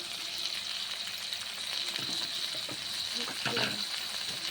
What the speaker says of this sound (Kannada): ಟೊಮೊಟೊ 2, ಹಸಿಮೆಣ್ಸಿಕಾಯಿ ಒಂದು 2ರಿಂದ 3 ಚೆನ್ನಾಗಿ ರೋಸ್ಟ್ ಆಗೋ ತನಕ ಸ್ವಲ್ಪ ಫ್ರೈ ಮಾಡ್ಕೋಬೇಕು